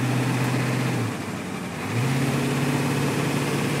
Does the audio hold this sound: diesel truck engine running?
yes